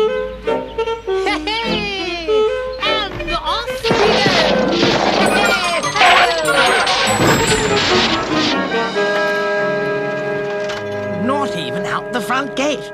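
A cartoon car driven badly crashes into a front gate in a 1988 Wind in the Willows animation, with loud smashing and clattering over busy music and voices, followed by tinkling debris.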